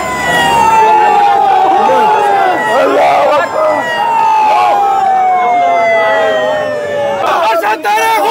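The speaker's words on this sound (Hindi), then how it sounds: "एम्बुलेंस जो है वो कायदे आज़म अस्पताल पहुंच गई है" An ambulance siren wails steadily with a slowly falling tone as it arrives at Quaid-e-Azam hospital at night, loud and close over a murmuring crowd and voices.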